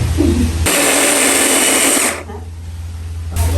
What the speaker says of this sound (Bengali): এখন এইটাকে আরেকবার একটু আমরা গ্রেট করে নিব